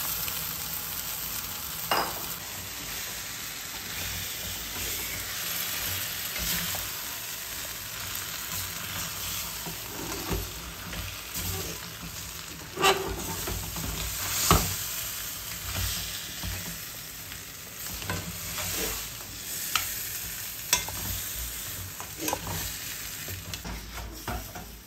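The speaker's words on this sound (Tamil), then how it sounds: "இப்போ நண்டு போட்டு நான் 5 நிமிஷத்துக்கு நல்லா வதக்கி விடுங்க, அது வதங்கட்டும்." About a kilogram of crab sautés in hot oil for a spicy Tamil crab curry, a steady close sizzle with occasional scraping stirs and light clinks of the spoon against the pan, with no talking.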